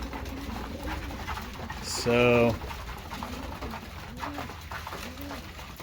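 Racing pigeons coo repeatedly in soft, rhythmic rolling calls close by, under a man's speech, with a brief loud electronic beep partway through.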